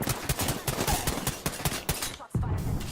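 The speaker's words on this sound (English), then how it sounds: "Shots fired." Automatic weapon fire in the battle royale game Apex Legends, a steady rapid string of loud close shots that breaks off briefly and then resumes.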